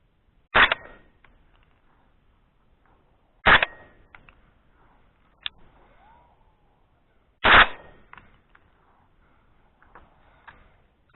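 A Piedmont Cartridge Catahoula rifle fires outdoors. There are three loud, sharp reports spaced a few seconds apart, plus a fainter crack between them, with near silence in the gaps.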